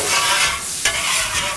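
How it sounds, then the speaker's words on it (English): Sizzling onions and seasoning scraped and stirred with a spatula across a hot Blackstone griddle for jambalaya, a steady close frying hiss with scraping strokes and no talk. "I'm gonna go ahead and mix these onions over here."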